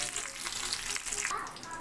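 A brief burst of loud sizzling as a hot oil and spice tempering hits lentil soup, crackling and hissing close by.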